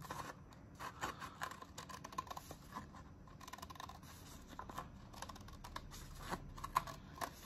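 Scissors cut a paper cup with a quiet run of snips and scraping, faint and steady, close by.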